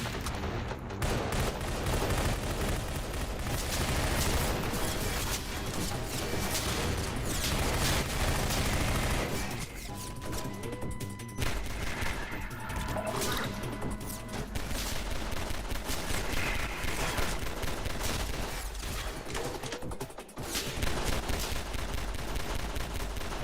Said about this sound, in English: Spamming grenades.